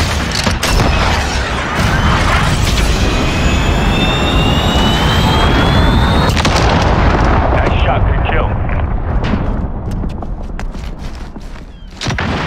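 A missile launches and explodes in the Call of Duty: Modern Warfare video game, a loud sustained jet-like roar with heavy rumbling booms during team deathmatch combat that continues for several seconds before easing off.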